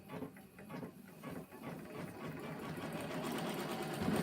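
A Janome Continental 17 embroidery sewing machine with a large 12x19 hoop runs with a fast, close mechanical chatter that settles into a steadier, slightly louder whir toward the end.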